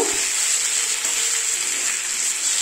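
Matar paneer frying in a pan, a steady bright hiss of sizzling oil heard close and unbroken, with no voices.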